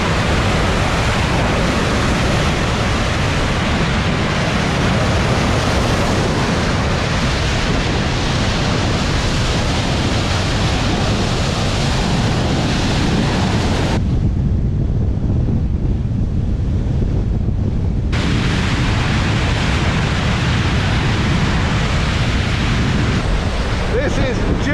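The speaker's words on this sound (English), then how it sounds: "most obvious thing is the amount of water that we're displacing" Rushing, churning sea water thrown aside by a Princess Y85 superyacht on a sea trial, a loud steady broadband roar with wind buffeting the microphone, briefly dropping away for a few seconds midway before returning.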